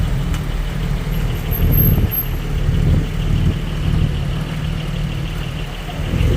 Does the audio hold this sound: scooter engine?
yes